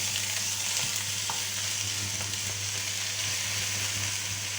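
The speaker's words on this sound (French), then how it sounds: "je vais ajouter mes carottes. Et je remue." Carrots sizzle steadily in a pan for a turkey blanquette, a constant close frying hiss with a few faint stirring clicks and scrapes, no voices.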